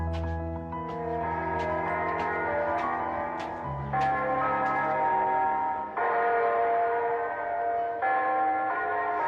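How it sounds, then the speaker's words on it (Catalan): The church bells of Sant Pere Apòstol in Moixent ring on the eve of the patron's feast, sounding loud, sustained, resonant tolls that shift pitch in several changes over about nine seconds, with no speech. "les campanes de l'església de Sant Pere Apòstol de Moixent"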